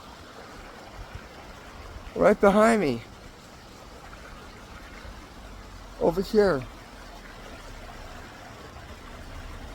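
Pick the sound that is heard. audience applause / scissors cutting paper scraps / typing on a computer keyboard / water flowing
water flowing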